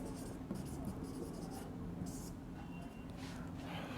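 A pen scratches steadily across paper while someone writes out an English sentence by hand, a continuous soft close-up scribbling with small pauses between strokes.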